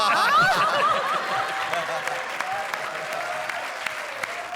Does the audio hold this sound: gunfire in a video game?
no